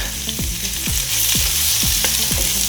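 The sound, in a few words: vegetables sautéing and sizzling in a pan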